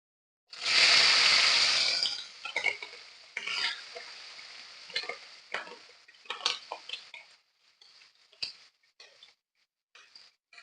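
Chillies hit hot cumin tempering for a Gujarati besan marcha shaak, bursting into a loud close sizzle that settles into softer crackling under repeated spoon stirs and scrapes in the pan.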